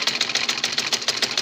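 A sewing machine stitches a seam on fabric for an A-line dress, its needle chattering in a fast, even, close mechanical rhythm throughout.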